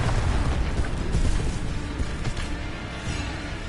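Incendio fire spell cast in Hogwarts Legacy, a sustained fiery whoosh and rumbling burst with a few crackling pops, moderately loud and steady with no speech on top.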